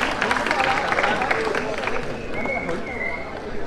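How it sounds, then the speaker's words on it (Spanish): Crowd at a Rocket League 2v2 league final applauds in a dense, steady wash of clapping and cheering. A voice talks over it throughout. "Un aplauso, un aplauso."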